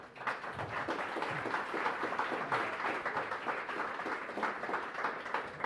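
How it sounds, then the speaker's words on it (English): Steady applause from a university panel audience, dense clapping sustained throughout at a moderate distance, with no talking. "I will ask a round of applause for our three ambassadors here"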